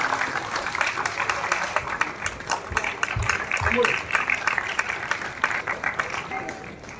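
An audience at a Hindi comic poetry gathering applauds, with dense, steady clapping that carries on loudly for several seconds before easing slightly at the end.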